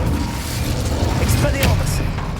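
Spell-casting effects from the Hogwarts Legacy video game, a dense, continuous barrage of booming bursts and crackling pops, loud and close, overlaid with shouted voices.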